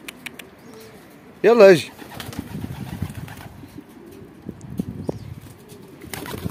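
Pet pigeons at close range: a brief loud burst of wing flapping, then soft cooing and rustling, with a man calling to the birds over them.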